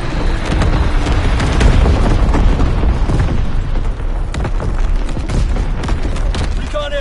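Azon bomb explosions rumble through a PS4 combat video game, a steady barrage of booms and bursts layered thickly over several seconds with speech mixed into the noise.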